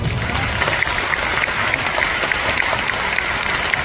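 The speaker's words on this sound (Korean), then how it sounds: "자, 박수하겠습니다." An audience at a Korean political rally breaks into applause, a loud, dense, uninterrupted burst of many hands clapping that holds steady throughout.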